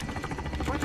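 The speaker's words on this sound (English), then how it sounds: "Oh my god, I got a chopper gunner." A chopper gunner helicopter from Call of Duty Modern Warfare, a dense rhythmic rotor thump and whir mixed with game noise, running loud and continuous under overlapping talk.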